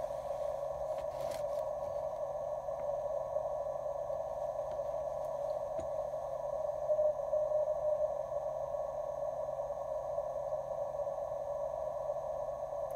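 A faint, steady amateur radio tone from Curacao station PJ2/W9VA hums over a bed of static and hiss, with a thin signal wavering and fading in strength throughout.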